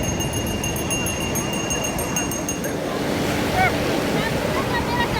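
Sea waves wash steadily onto the beach where the Chandrabhaga river meets the ocean near Konark, a continuous loud roar of surf with wind buffeting the microphone and faint high tones early on.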